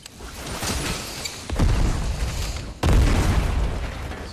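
Grenade explosions in the Fortnite video game, two heavy booming blasts that hit hard and then rumble on in a dense, loud low roar, one after the other a little over a second apart.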